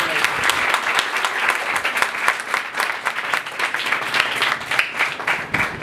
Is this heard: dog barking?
no